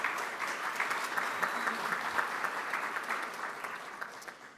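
Audience applause for guests at a Rotary club meeting, a steady dense wash of many hands clapping throughout, moderately loud and continuous without talk.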